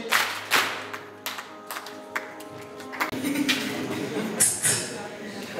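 Worshippers at a church gathering clap their hands in rhythm with a sung chant, the sharp claps standing out over voices and music.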